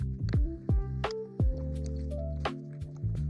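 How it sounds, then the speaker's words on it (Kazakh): Batter of liver, milk, egg, flour, salt and cutlet seasoning being stirred by hand to smooth out lumps, giving close, wet squelching strokes at an uneven pace with a few drippy splats. "2 дәу қасық ұн салып, түйіршік қалмайтындай етіп араластырып шығамыз"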